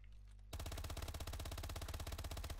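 Rapid-fire automatic weapon in Call of Duty Advanced Warfare, a sudden dense burst of evenly spaced loud shots that starts after a brief quiet and keeps hammering without pause.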